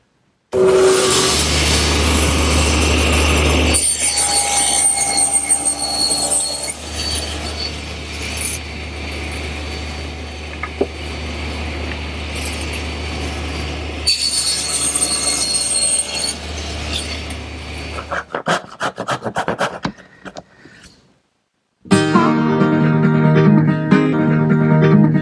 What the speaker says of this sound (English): I'm going to use my tenon attachment for the table saw